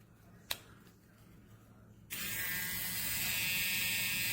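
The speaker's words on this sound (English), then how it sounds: "As you can hear, the trimmer is a little bit noisier" A Wahl Micro Groomsman battery-powered personal trimmer switches on after a single sharp click and keeps up a steady, fairly loud buzzing hum close by, with no one talking.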